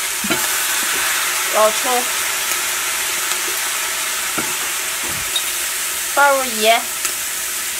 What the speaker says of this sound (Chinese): 把鸡肉多炒一会儿，炒干一点